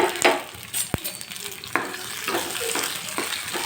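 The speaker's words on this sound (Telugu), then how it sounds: "ఇప్పుడైతే ఇది స్టవ్ ఆన్ చేసి ఆయిల్ అయితే వేసాను ఇప్పుడైతే ఈ టమోటో అన్నీ మగ్గించుకోవాలి" Tomatoes cooking in hot oil in a pan on the stove, a steady soft sizzle with a few sharp utensil clinks and scraping stirs close by, no speech.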